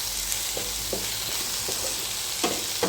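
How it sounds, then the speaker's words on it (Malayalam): Okra frying with turmeric in a pan for vendakka mezhukkupuratti, stirred with a spatula: a continuous close sizzle broken by a few soft scraping strokes, with no voices. "വെണ്ടയ്ക്ക നന്നായി 1 മിനിറ്റ് ഒന്ന് ഇളക്കി യോജിപ്പിക്കുക"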